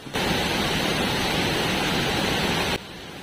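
Water from the Mbulayan waterfall near Gunung Meriah village pours down in a steady, dense roar, loud and close, holding constant before dropping off abruptly near the end.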